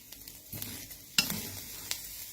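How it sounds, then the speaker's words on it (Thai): Chili and fish dry-roasting in a pan, with a quiet sizzle under a few sharp scraping clanks of a spatula stirring against the metal, close and sparse. "เราก็คั่วให้สุกเนาะ"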